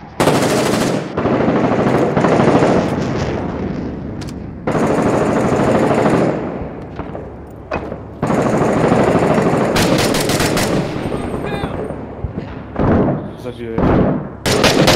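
Sustained bursts of automatic gunfire in the combat game Six Days in Fallujah, loud and close, broken by short pauses, with a few single shots near the end and players talking quietly underneath.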